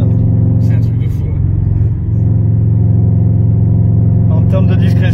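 A Subaru Impreza WRX STI engine rumbles loud and close for the full stretch, holding a steady deep drone with a slight dip midway before building again, and a voice speaks over it.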